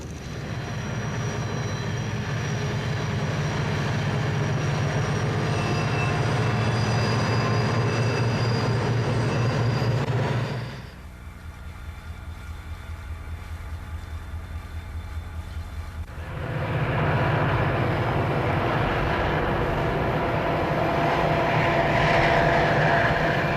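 A train rolls through Kicking Horse Canyon with a loud sustained rumble and engine drone, dropping away briefly to a quieter hum before the heavy roar returns and holds.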